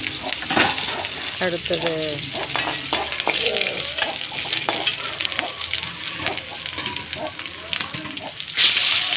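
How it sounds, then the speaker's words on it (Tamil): Dried red and green chillies sautéing in a hot oiled pan while being stirred, with steady sizzling and scraping spoon sounds close up as someone talks over it. "2 வரமிளகா, 2 பச்சை மிளகா அல்லது ஒரு பச்சை மிளகா போட்டு அதிலே நல்லா வதக்கிக்கோங்க"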